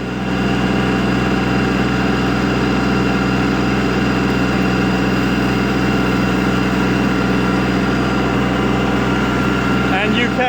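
Weed Badger 2550-SST head spinning on a tractor, a steady loud mechanical drone with engine hum and vibration throughout, constant and close with no breaks.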